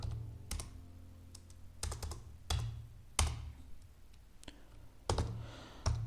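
Someone types on a computer keyboard, giving sparse, crisp key clicks and taps at an irregular pace, close and fairly quiet, with no talk.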